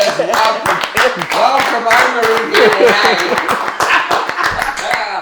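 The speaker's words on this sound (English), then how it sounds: "I think we just started a clap." Several people clap in scattered, sharp bursts during a lively exchange of voices, with the claps mixed in among loud nearby talk and laughter.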